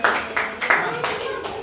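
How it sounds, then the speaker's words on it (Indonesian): Short burst of clapping from a classroom audience, three or four quick clustered claps rather than sustained applause, mixed with a voice speaking. "Oke, tepuk tangan sekalian."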